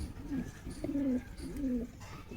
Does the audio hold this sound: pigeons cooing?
yes